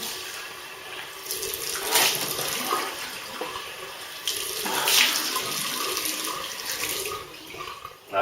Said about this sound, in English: So I'm just going to rinse off.